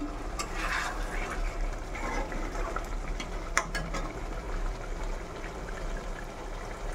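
Fish simmering in a pan with the lid off, gently stirred in a soft, steady bubbling and scraping of liquid with a few small clinks, close by and moderately quiet throughout.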